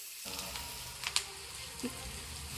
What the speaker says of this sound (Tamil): எண்ணெயிலேயே மஞ்சத்தூள் நல்லா வதங்கட்டும் நல்லா கிண்டி விடுங்க இது நல்லா பொன்னிறமாக வர வரைக்கும் வதங்கட்டும்